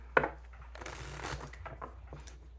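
Tarot cards being shuffled close up, a sharp snap at the start followed by a quick riffling flutter that fades into softer sliding of cards; no talking.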